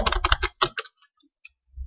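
Fingers type code on a computer keyboard in a quick, dense burst of clicks for under a second, then a few scattered light taps trail off into near silence, close by and without talk.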